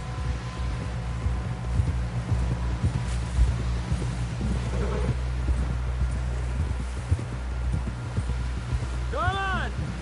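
Horse hooves clip-clop at a steady gait in the video game Red Dead Redemption 2, a soft rhythmic patter beneath a constant low rumble, with people talking over it.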